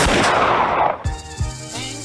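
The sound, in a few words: gunshot sound effect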